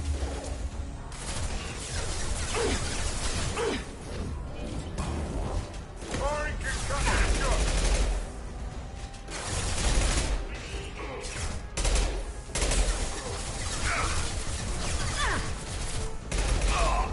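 Bursts of gunfire, impacts and mechanical clatter from the Mass Effect 2 video game fill a loud, busy mix, with game character voices talking over the shooting throughout.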